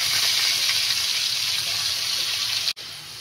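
Potatoes fry in hot oil with a loud, steady, hissing sizzle that holds evenly, then briefly cuts off and resumes a little softer, close by with no talk.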